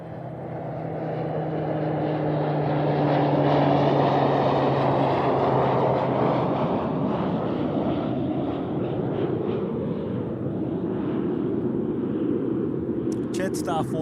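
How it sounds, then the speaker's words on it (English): Pilatus PC-12 turboprop airliner passing at Christchurch Airport, a broad roaring engine drone that swells toward its loudest around the middle and then holds, heard from an outdoor spotting spot. "a PC-12 about to join us here."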